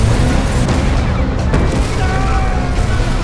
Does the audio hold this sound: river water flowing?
no